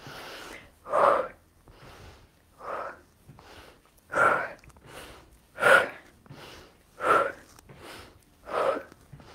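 Heavy, rhythmic breathing from an instructor during a live fitness workout: about eight loud, close huffing exhales spaced roughly a second apart, with no talking between them.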